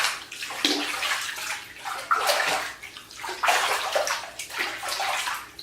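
Water splashing and sloshing as someone rinses off in a bathtub, close and moderately loud, in uneven pouring surges with no talking.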